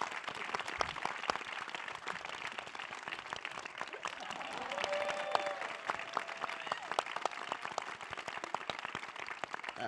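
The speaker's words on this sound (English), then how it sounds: "Can I have some applause for that?" An audience at an Academy Museum tribute claps steadily for about ten seconds, a dense, even wash of applause at moderate distance that swells slightly midway.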